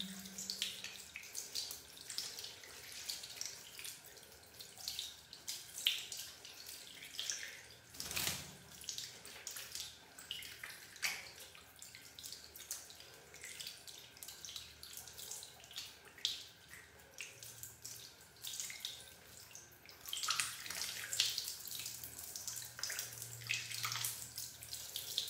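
Running water steadily rinses soap off a cat being bathed for a fungal skin infection, a continuous close splashing stream from a tap that lasts throughout with brief louder surges and no talking.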